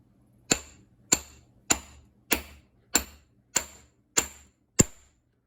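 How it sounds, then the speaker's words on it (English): Eight evenly spaced, sharp hammer blows tapping a part into place on a cheap power rake, each a loud close metallic knock with a short ring, about one every half second, with no talking. "Hammer time."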